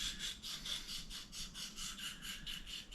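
A knife blade is worked back and forth across an oil stone, giving a steady rhythmic scraping of about a dozen even strokes, close and fairly quiet, with no voices.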